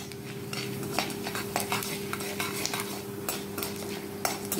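Chana dal and urad dal roast in a pan for bread upma, heard as a soft crackle under frequent sharp scrapes and taps of a spoon stirring against the metal.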